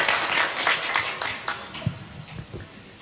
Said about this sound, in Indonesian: Tepuk tangan untuk Mbak Lutfia.